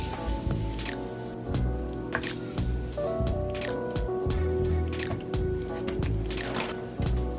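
White and brown sugar are dumped into melted butter in a bowl, giving soft wet squishing and scraping sounds in irregular bursts, close and fairly quiet.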